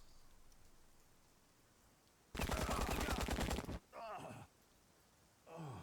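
A single loud burst of rapid gunfire from the Empire of Sin video game cuts through quiet background. A few shorter follow-up sounds come after it, and faint voice-like groans can be heard.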